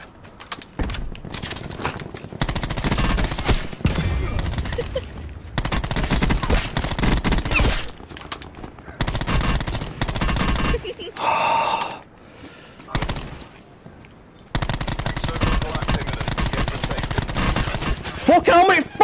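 Gunfire in Black Ops 4 Blackout comes in dense, rapid automatic bursts separated by short pauses, loud and close, with excited players talking over parts of it.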